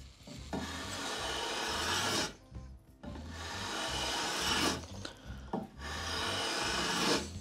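Wooden instrument fretwork edge being filed by hand, three long steady rasping strokes separated by brief pauses, close and fairly loud, with no talk.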